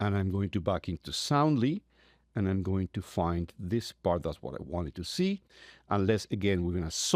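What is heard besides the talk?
No everyday noises stand out.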